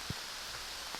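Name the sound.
rain falling outdoors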